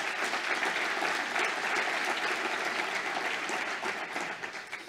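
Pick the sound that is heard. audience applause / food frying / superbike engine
audience applause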